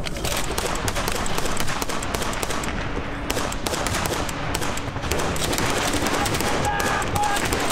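Dense, continuous gunfire during a combat operation near Bakhmut, with rapid machine-gun bursts and overlapping shots, loud and unbroken from start to finish.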